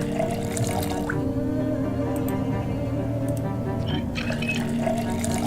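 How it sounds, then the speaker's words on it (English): Water pours steadily into a water bottle, a continuous gurgling fill running the whole time at close range, with no one talking. "Fill our water bottle."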